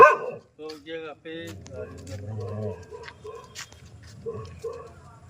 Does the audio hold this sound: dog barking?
yes